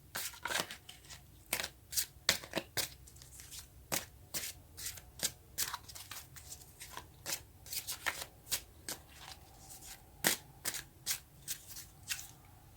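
Tarot cards are shuffled by hand in a quiet room, giving a run of crisp, irregular riffling and slapping bursts that repeat close by with short pauses between.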